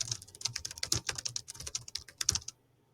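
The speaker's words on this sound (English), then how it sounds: "I'm going to start with membrane keyboard." Fast, irregular keystrokes on a membrane computer keyboard, a close, dense patter of soft clicks that runs steadily for about two and a half seconds and then stops.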